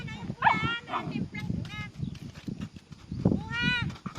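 Several guard dogs bark in short bursts, a couple of sharp yelps close by, while people talk nearby on an outdoor vegetable farm.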